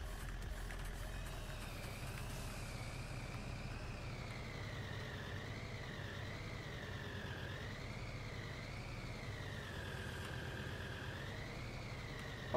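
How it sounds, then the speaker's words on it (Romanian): A Farming Simulator tractor engine drones steadily as it drives, its pitch rising and falling in smooth waves as the load changes, faint and continuous with no talking. "O să mergem un pic cu tractorul în față."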